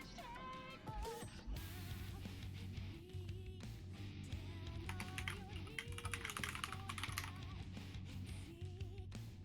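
Someone types on a computer keyboard during a Final Fantasy XIV gaming session, a quiet run of quick key clicks beneath louder game music.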